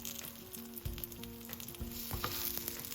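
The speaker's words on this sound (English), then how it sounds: "Now you should be hearing the pan sizzle quite a bit at this point" A sandwich fries in a hot pan, a dense steady sizzle and crackle with occasional soft stirring knocks and scrapes, close and fairly quiet, no voices.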